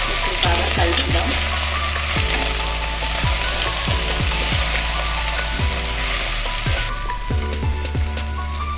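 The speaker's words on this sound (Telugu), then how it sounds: "ఇప్పుడు బాగా కలుపుదాం." Potato curry frying in a pan with a steady loud sizzle, while a spoon scrapes and stirs through it in repeated strokes, close and continuous.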